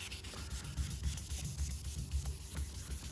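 Paint on a Porsche 914 being sanded level, a steady close scratchy rubbing with repeated back-and-forth strokes throughout, no talking.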